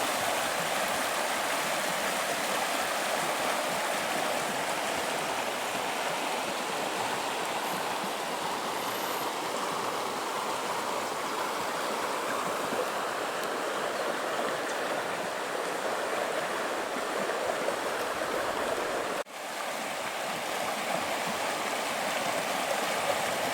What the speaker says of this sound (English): I'll be quiet a while and let the river do the talking.